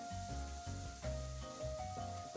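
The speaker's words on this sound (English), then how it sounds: "What's that sizzling noise?" A steady, hissing sizzle runs the whole time beneath a loud sustained tonal background with shifting notes, with no talking.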